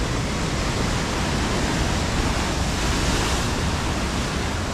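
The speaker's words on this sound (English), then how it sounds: "Ooh, some big waves pumping in." Big ocean waves crash along the rocky coast at Ka'ena Point, Hawaii, a loud, unbroken roar of surf with no voices over it.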